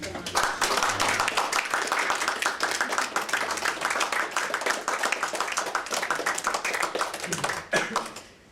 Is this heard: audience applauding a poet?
yes